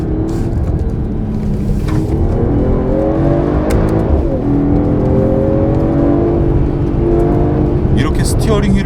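Mercedes-AMG GT 43 4-Door engine and exhaust in sport mode, a loud sustained drone rising in pitch through gear changes with brief crackles, heard from inside the cabin under someone talking throughout.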